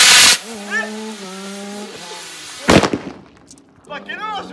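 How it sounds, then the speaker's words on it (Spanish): A small firework rocket being lit and set off bursts with a sharp hiss and pop at the start, followed by people talking, then another loud crackling burst, with voices returning afterward. "Vamos a empezar con los cohetes. Vamos a tirar uno a ver cómo va."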